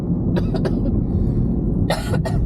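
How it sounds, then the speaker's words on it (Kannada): Two short bursts of coughing close by, a pair of quick coughs, a pause, then two more, over a low steady background rumble. "ಕಿಟಕಿ ತೆಗ್ದ್ಬಿಟ್ಟು ಕೆಮ್ಮು"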